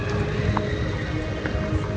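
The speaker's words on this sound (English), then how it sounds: "Rain." Steady rain at Disney World near Space Mountain, a dense broadband hiss with scattered drop patter, continuous and fairly loud with no clear talk.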